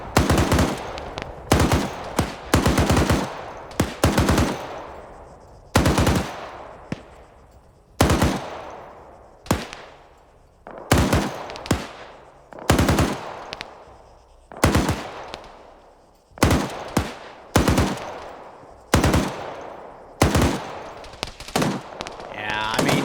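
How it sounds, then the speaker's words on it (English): M2 and MG3 machine guns firing in a video game, repeated loud bursts of rapid gunfire in distinct volleys with short gaps between them, heard close and sharp throughout. "That M2's overrange, the MG3 is a little overrange as well"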